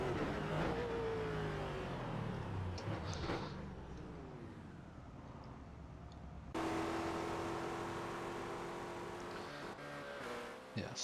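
A race car in the iRacing sim drives with engine tones rising and falling through gear changes, a sharp cut midway to a higher, louder steady drone, with voices faintly underneath.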